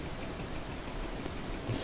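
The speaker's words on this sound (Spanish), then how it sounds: "pero veo que la lluvia se va" Soft, steady rain patter with a faint hiss in Farming Simulator 22, even and low, with no voices.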